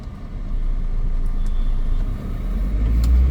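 Car cabin rumble while driving through city traffic after shifting up to fourth gear, a steady low engine and road drone with faint passing sounds, no talking.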